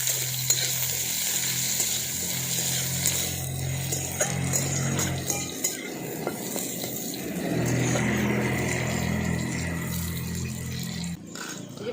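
Raw mango pieces hit hot oil with a black cumin tempering and sizzle steadily, a dense crackling fry that runs throughout with a low hum beneath.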